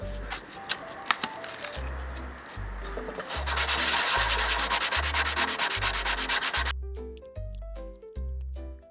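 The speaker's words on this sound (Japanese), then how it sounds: "軽く周りをサンディングして完了ですね。" A scrap-wood tool piece is sanded lightly around its edges. Close, steady rasping strokes repeat in an even back-and-forth rhythm, with a few sharp taps early on.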